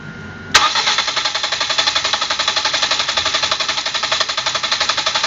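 Car engine cranking over on the starter for a compression test with all injectors disconnected and the throttle held wide open, a steady rapid rhythmic churn after a sharp onset, loud and close, no voices.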